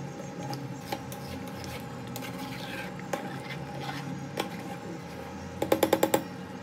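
Thick beef halim being stirred in a pot, a steady low scraping and churning at close range, with a short run of sharp metallic clinks from the spoon against the pot near the end.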